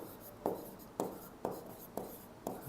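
A maths solution on the variance of a random variable is written out by hand: distinct pen or marker strokes land in a steady rhythm, each a short scratchy tap, close and alone.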